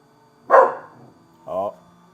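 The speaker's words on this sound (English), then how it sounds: "Hey Zeus, why are you growling at the CNC machine?" A dog growls and barks at a running CNC machine in a laser-engraving workshop, giving two short, close, gruff bursts separated by a pause.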